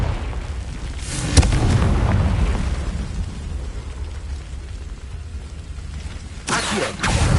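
Confringo spell blasts in the Hogwarts Legacy video game: a sharp boom near the start, a rumbling roar of game effects, then another burst of impacts near the end.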